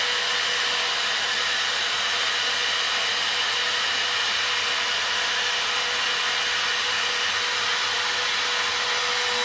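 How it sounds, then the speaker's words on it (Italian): The spindle of a CNC 4040 Pro router with an upgraded Z axis runs in a woodworking workshop, giving a loud, steady, high-pitched whine with a constant hiss that holds unchanged throughout. "Accendiamo il mandrino."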